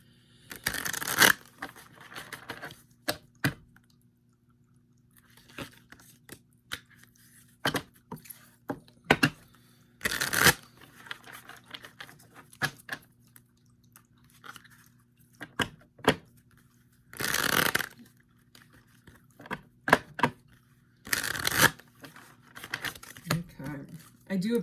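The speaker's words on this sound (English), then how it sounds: "So this is really the second shuffle, which is why I don't shuffle a whole bunch of times." An oracle deck based on tarot is shuffled by hand, giving soft papery riffles and card taps in bursts with pauses between them, under intermittent talking.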